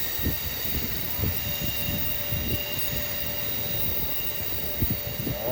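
Amtrak Crescent train at the Greensboro station, a steady rumbling roll of railcars with clattering wheels and a faint high squeal, close and continuous throughout.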